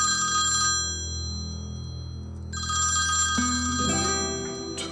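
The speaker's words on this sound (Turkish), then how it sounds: "Ya telefon çalıyor." A telephone rings loudly in two long electronic bursts with a pause between, the second joined by a brief melodic tone near the end.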